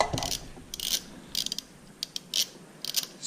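Ratchet clicking as it loosens the oil drain plug bolt on a Yamaha F70 four-stroke outboard, quick bursts of sharp clicks with brief pauses, close and fairly quiet.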